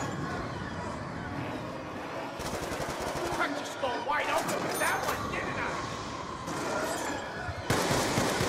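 A machine gun fires in the zombie video game Mob of the Dead, with dense rapid bursts of gunfire over a constant roar of game noise and effects.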